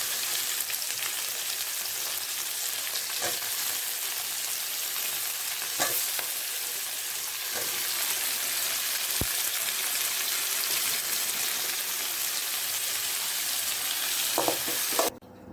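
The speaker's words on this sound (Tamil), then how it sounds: "கொஞ்சமாக எண்ணெய் ஊற்றி வெங்காயம் போட்டு நெய்ஞ்சி பூண்டியும் போட்டுக்கோங்க." Onion, garlic and tomato fry in a little oil for a street-style sundal masala, giving a steady, close sizzle throughout with a few stirring clicks and scrapes near the end.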